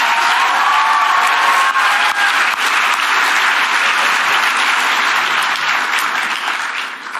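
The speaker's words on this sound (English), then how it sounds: "how about a round of applause for Allison" Loud, sustained round of applause from a large audience at a Students for Life event, a dense steady wash of clapping that holds for several seconds before tapering slightly at the end.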